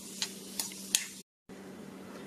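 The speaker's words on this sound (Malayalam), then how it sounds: "ഈ ചീനച്ചട്ടിയിലേക്ക് ഞാൻ ഈ തേങ്ങ ചെറുതായിട്ടത് വറുത്തെടുക്കും" Small coconut pieces fry in ghee in a pan, a soft steady sizzle with a few sharp clicks of stirring, then a brief silence before the frying resumes.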